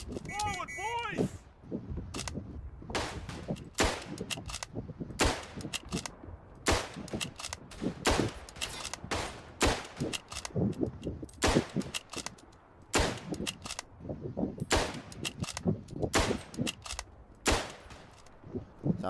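Rifle shots and scattered gunfire crack repeatedly in the World War I shooter Verdun, sharp loud reports arriving in irregular bursts amid ongoing battle noise, with people talking over the action.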